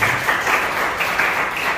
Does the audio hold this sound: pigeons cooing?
no